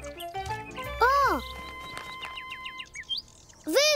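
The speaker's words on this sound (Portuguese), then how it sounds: "Vejam, os pássaros voltaram." Several bright, sweeping cartoon bird chirps ring out in quick bursts, close and clear, with a spoken voice mixed in among them.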